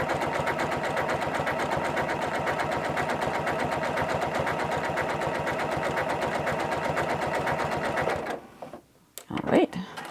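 A Janome CM17 sewing machine runs a twin-needle utility stretch stitch, a steady rapid mechanical whirring with regular ticking pulses for about eight seconds, then stopping into a few soft handling clicks.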